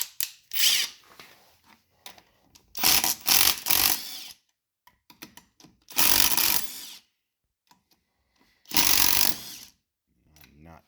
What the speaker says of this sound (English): So I'm going to go ahead and take these lugs off.